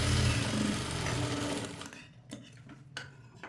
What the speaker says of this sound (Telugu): ఫోల్డింగ్ చేసుకొని ఎడ్జ్ పైన ఇలా కుట్టేసుకోవాలి.